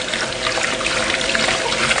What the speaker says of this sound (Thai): เราก็เปิดน้ำไหลผ่านแล้วก็ใช้มือเนี่ยขัดหรือว่าถูเนี่ยครับ